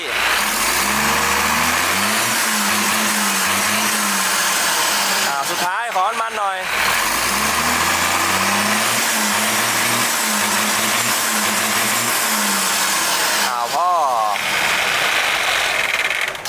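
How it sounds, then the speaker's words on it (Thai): A Hino P11C 320 hp diesel truck engine with a mechanical inline fuel pump idles close and loud, a steady rumbling drone with two brief throttle changes. "นี่คือตัวนี้เลยครับ P11C ปั๊มสายไม่มีระบบไฟฟ้าเข้ามาเกี่ยวข้องนะครับ"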